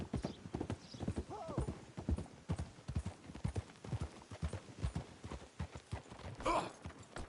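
Horse hooves clip-clop in a steady rhythmic trot in Red Dead Redemption 2, with a brief whinny near the end and faint background sounds.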